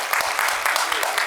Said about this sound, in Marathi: जोरदार टाळ्या होऊन जाऊ द्यात